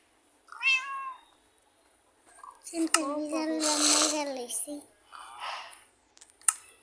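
A cat meows several times, close and fairly loud, with short gaps between the calls and some rustling in between.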